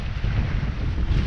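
Strong wind buffets a sailboat under sail on a breezy cruise in Greece, a steady close roar of gusts with low rumbling across the microphone, no voices.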